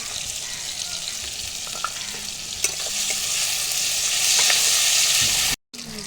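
Onion, tomato, green chilli and ginger-garlic paste sizzle and crackle in a pan for a duck curry, with steady frying, a few stirring clicks and a brief sudden dropout near the end.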